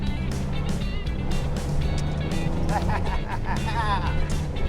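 Stock Jeep JK driven hard off-road: a continuous engine drone with rising and falling revs, mixed with rattles and bumps from rough terrain, close and fairly loud throughout.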